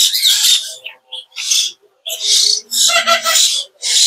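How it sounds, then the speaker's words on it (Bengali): Chittagong myna birds at a bird market, loud close bursts of harsh whistles and chatter in quick irregular calls with brief gaps. "দেখেন অরিজিনাল চিটাগাঙের ময়না পাখিগুলা"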